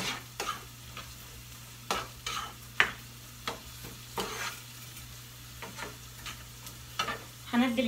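Onion frying in hot oil in a home kitchen, a soft continuous sizzle broken by repeated scraping stirs and clatters of a utensil, close and fairly quiet, with no talk.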